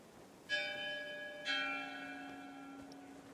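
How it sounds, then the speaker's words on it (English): Bell in the video game Guild Wars 2 struck twice about a second apart, each clear metallic strike ringing out with a long sustained hum, no talking. "Can we ring the bell?"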